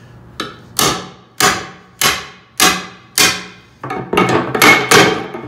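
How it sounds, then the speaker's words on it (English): A hammer strikes a steel punch and drift, cold-punching holes in metal for rivets. Ringing, evenly spaced blows come at first, then quicker, denser strikes follow. "we're just gonna punch and drift our holes here."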